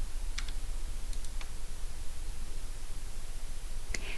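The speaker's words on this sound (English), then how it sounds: "enter today's date by pressing the letter T on your keyboard" A few light, sharp clicks of keys pressed on a computer keyboard, heard close up over a steady background hiss.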